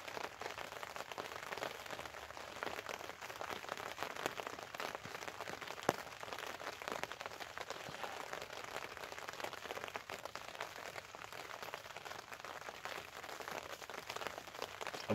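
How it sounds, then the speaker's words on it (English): Steady rain falls outside with a dense, even hiss of drops and no pauses, fairly quiet and unbroken. "as you can hear, it's bloody raining again."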